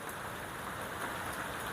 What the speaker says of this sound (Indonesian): hujan rintik-rintik yang saat ini turun membasahi bumi